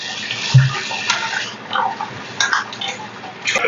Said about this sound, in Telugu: ఇప్పుడు కొంచెం చికెన్ని ఒక 3-4 టైమ్స్ మంచిగా కడుక్కోవాలండి.